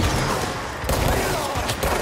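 Rapid bursts of gunfire aimed at enemies in the video game Control, dense close shots packed into a couple of seconds with no pause.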